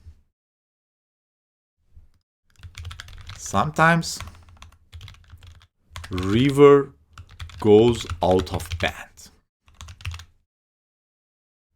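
Computer keyboard typing in bursts of quick keystrokes, with someone talking intermittently over it at close range.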